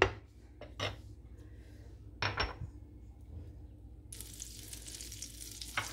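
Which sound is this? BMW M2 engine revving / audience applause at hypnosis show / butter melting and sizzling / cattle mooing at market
butter melting and sizzling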